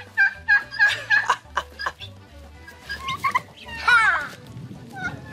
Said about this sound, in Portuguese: é o galinheiro